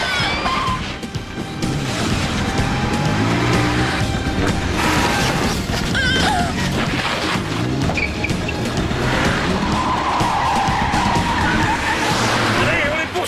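Cars skid and screech through a chase scene, with loud engines, tire noise and crash-like impacts running continuously at high level under shouted voices.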